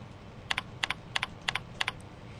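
Typing on a computer keyboard, heard as five evenly spaced pairs of crisp key clicks, close up and fairly loud over a quiet background, with no talking.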